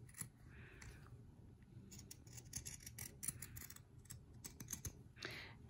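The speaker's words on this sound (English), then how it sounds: "we can cut through both layers of seam allowance at one time" Pinking shears cut through both layers of a fabric seam allowance, making faint, close, crisp snips in quick irregular runs against a quiet room.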